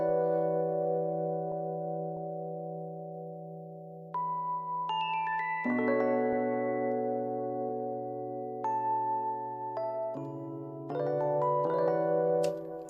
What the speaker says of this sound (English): to add a bit of variation to the Rhodes piano, we've just added a top line